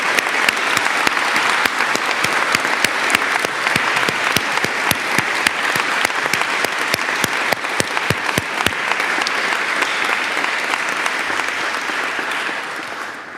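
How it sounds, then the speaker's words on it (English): Sustained audience applause at a remembrance rose-laying ceremony and scholar convocation honoring scholars, a dense steady wash of many hands clapping with a few sharper individual claps, fading slightly at the end. "Please join me in a round of applause recognizing the 2023-24 Remembrance Scholars."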